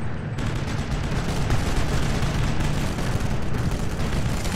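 Wartime battle noise in the Sniper Elite video game, a dense unbroken barrage of gunfire and explosions, loud and continuous throughout, with no pause or talk.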